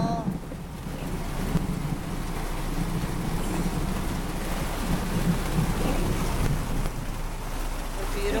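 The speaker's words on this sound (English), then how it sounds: "We got a bad rainstorm, thunderstorm going on right now." A heavy thunderstorm with pouring rain heard from inside a car in the Midwest, a steady dense roar of rain drumming on the vehicle with low rumbling thunder underneath throughout.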